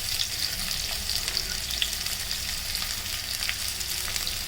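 Onions frying in hot oil in a pan, a steady crackling sizzle with bright spitting pops, close and continuous with no talking.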